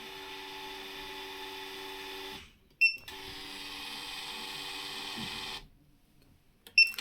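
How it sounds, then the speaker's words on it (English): The built-in thermal paper printer of a G-Matronix SLK 5700T digital auto lensmeter buzzes steadily in two runs, each ending with a short beep, quiet and close with no talking. "Inbuilt thermal paper printer."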